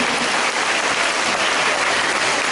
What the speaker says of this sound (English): May I now invite everyone to give him a warm round of applause as a sign of our welcome today.